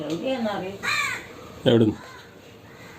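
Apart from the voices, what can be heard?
crow cawing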